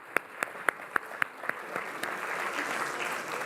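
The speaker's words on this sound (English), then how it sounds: "Let's give them another round of applause here." An audience at an event claps. A few loud, evenly spaced claps open it, then spread into broader, softer applause that carries on to the end.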